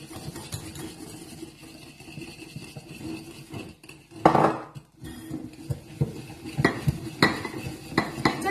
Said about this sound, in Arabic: غادي دابا نديرو مع هاد 100 غرام ديال السكر، غادي نخلطو معاه